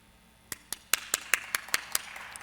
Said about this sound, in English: I was trying to make it really exciting by clapping at the end